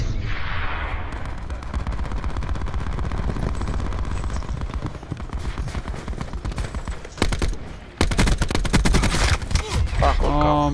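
Dense automatic gunfire and explosions fill the Nuketown map in a Call of Duty match, loud and near, with bursts stacking almost continuously and a sharp break before a final heavy volley.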